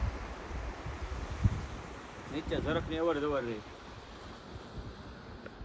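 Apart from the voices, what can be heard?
cool wind and sea waves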